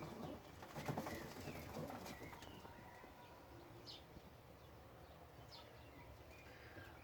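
Soft coos of feather-footed pigeons sound a few times at a distance over a steady outdoor hum, with faint background noise and no clear talking.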